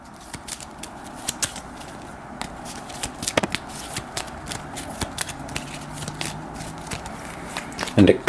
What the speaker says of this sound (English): I'll give those a shuffle since most of the decks just went flying on me.